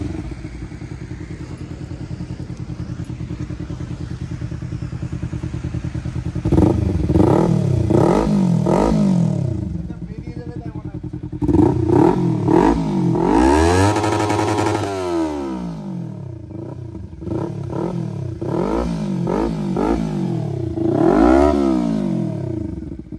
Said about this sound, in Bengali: আপনাদেরকে এক্সজস্ট সাউন্ডটা শোনালাম